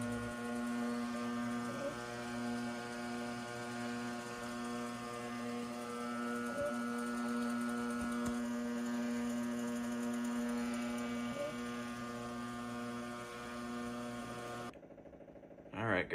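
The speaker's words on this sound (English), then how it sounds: "I'm going to get this cleaned up and on the winder" A coil winder rewinds the pickup from a 1967 Fender Telecaster, producing a steady motor hum with a strong tonal drone and faint periodic ticks, running continuously before stopping near the end.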